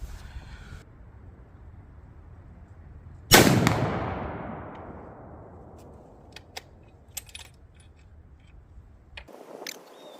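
A single loud rifle shot fired outdoors while testing a CVLIFE 6-24x50 scope, cracking sharply and then decaying through a long, fading echo, with a few faint clicks and small handling noises afterward.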